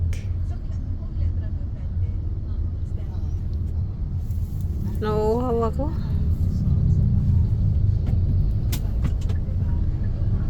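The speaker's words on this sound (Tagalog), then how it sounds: "Traffic, traffic." Steady low road rumble of traffic heard from inside a car while Dad drives to fetch Mom from work, continuous throughout with people talking over it.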